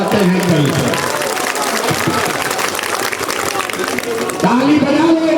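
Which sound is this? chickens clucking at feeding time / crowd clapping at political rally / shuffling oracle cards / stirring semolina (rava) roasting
crowd clapping at political rally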